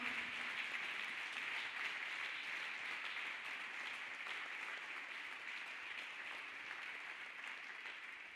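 A church congregation claps for Jesus Christ during a testimony service, a continuous, even roar of many hands that stays fairly soft and distant throughout and tapers slightly toward the end.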